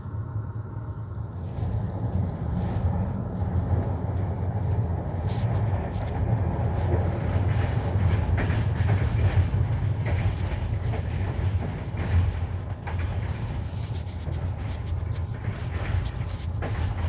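IRN 407 passenger train, a Corona Express night service, running on rails with a steady loud rumble and rhythmic clickety-clack of wheels throughout, heard from inside the carriage.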